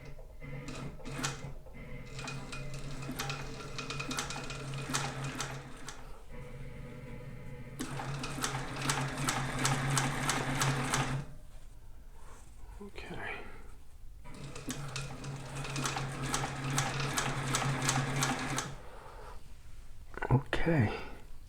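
A walking foot sewing machine stitching fabric, running in two sustained bursts of steady mechanical whirring with a brief pause between them, fairly close and moderately loud, with faint handling sounds around the runs.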